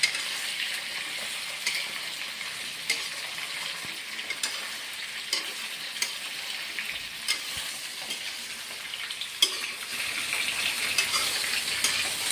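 Meat fries in a pan, giving a steady, close crackling sizzle with scattered sharper pops throughout and no voices.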